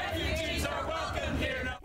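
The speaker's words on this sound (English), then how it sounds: "Protesters chanting, cheering." A crowd of protesters against Trump's policies in Spokane County chants and cheers together, a dense roar of many voices held loud and close before cutting off abruptly.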